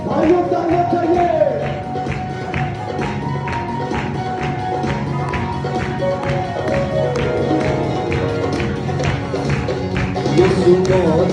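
Steady, rhythmic clapping from a church congregation keeps an even beat for about eleven seconds, blended with singing, music and crowd voices at a worship service.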